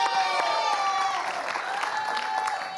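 A studio audience on the Indonesian game show Family 100 applauds steadily, a dense wash of many hands clapping at once, with music playing faintly beneath.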